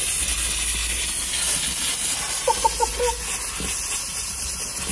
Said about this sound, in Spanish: cómo levanta todo el vapor